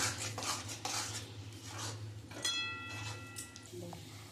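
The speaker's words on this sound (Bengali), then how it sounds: "আমি এবার একটু তালটা ভালো করে জাল দিয়ে নেব।" Palm fruit pulp stirred and cooked in a wok, with scraping utensil clatters against the metal and soft bubbling beneath, moderately close, ending on a brief metallic clink.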